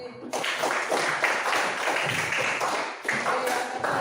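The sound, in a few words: applause, clapping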